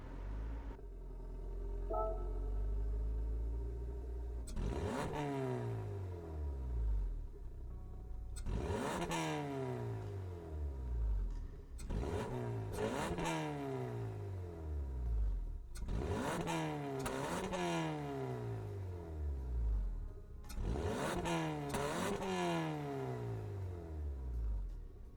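A 2023 Hyundai Elantra revs in Gran Turismo 7, repeated engine runs rising through several upshifts, about five sweeping bursts over steady idle, loud and close with no talking.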